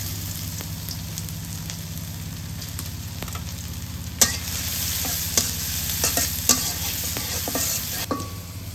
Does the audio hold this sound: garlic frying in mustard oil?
yes